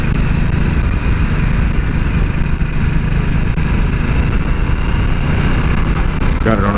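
A 2026 Harley-Davidson Nightster motorcycle engine runs steadily while riding, a loud continuous rumble mixed with rushing wind noise, close to the rider throughout.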